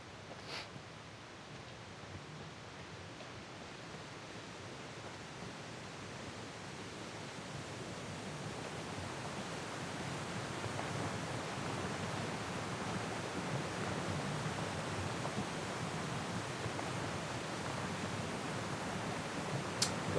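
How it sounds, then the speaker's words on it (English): A waterfall rushes in the video game Syberia: The World Before, a steady broadband roar that swells slightly and continues unbroken for about twenty seconds with no voices. "Don't go chasing these waterfalls."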